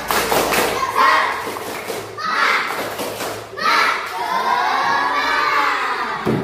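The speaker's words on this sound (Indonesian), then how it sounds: "sekali lagi tepuk semangat." Fourth-grade schoolchildren chant and clap a rhythmic classroom spirit cheer in loud bursts of group voices and claps, three rounds separated by short pauses.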